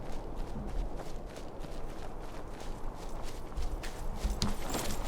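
Hooves of a horse named Whisper clop along in the Skyrim video game, a steady walking rhythm of soft thuds over a low ambient bed, moderately close and without speech.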